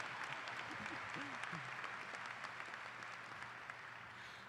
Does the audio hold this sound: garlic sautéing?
no